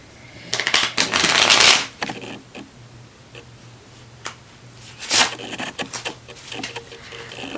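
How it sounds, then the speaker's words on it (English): A deck of playing cards is shuffled by hand, with two loud riffling bursts, one long and one brief, separated by softer handling clicks and taps, close and clear with no talk. "maybe one more shuffle"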